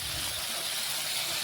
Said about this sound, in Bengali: এখন মশলা একটু ভেজে নিচ্ছি।